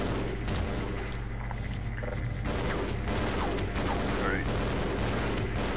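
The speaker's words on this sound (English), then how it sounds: "I don't even know where they're firing." Enemy gunfire in Half-Life, a steady stream of sharp shots and mechanical clatter over a dense, continuous game soundscape with low rumble throughout.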